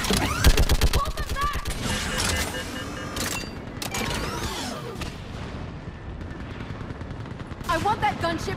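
Heavy sci-fi gunfire in the video game Mass Effect 3, rapid automatic bursts and booming impacts layered over battle noise, with voices shouting over the shooting.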